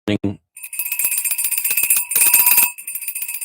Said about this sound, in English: This was a bell that I made when I was learning.